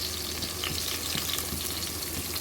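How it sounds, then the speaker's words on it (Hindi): Onion, garlic, ginger and green chili fry in a pan with a steady soft sizzle, fairly quiet and continuous, with faint stirring scrapes and no talking. "ये लहसुन अदरक का हरी मिर्च भी मैं डाल दूँगी ताकि ये भी प्याज के साथ ही फ्राई हो जाए थोड़ा"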